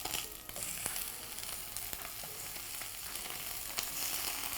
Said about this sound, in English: what I'm going to do now is I'm just going to sear it first